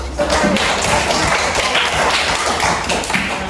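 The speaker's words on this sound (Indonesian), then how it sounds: "Oke, tepuk tangan dulu." Audience of mothers at a school sustainability session on recycling waste, clapping hands together in a dense, steady patter that stays loud and close throughout, with no voices.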